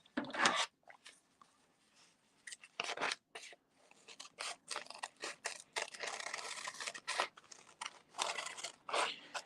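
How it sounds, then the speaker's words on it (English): Scissors cut through paper in bursts of close, crisp snips and crunching slices separated by short pauses, with faint talking in the background. "And I'm just using my scissors."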